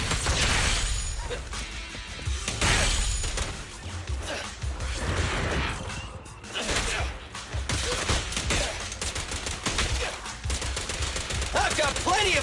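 Sustained rapid gunfire in the Zenless Zone Zero game, loud close volleys of shots mixed with smashing impacts, running almost without break with short dips in intensity.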